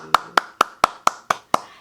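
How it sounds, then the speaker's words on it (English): Seven sharp hand claps in a steady, evenly spaced rhythm, close and distinct, following a read-aloud of a children's book about the pumpkin seed life cycle. "Let's clap for the pumpkin seeds secret. Yay! Clap with me."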